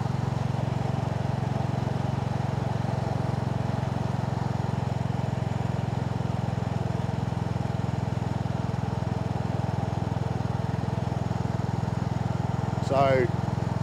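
A Royal Enfield Classic 350 motorcycle being ridden near Macedon gives a steady low engine drone with wind rush throughout, ending in a brief chirp.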